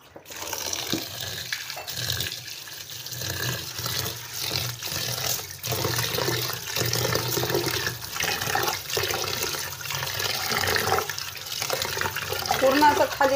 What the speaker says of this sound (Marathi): अजून एकदा पाण्याने धुते।